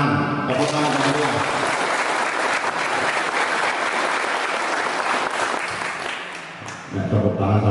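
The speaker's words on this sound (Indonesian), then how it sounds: "Tepuk tangan semuanya." An audience at a PSHT martial arts training session applauds loudly, dense clapping that starts abruptly, holds steady and fades near the end, with voices heard briefly at the start and close.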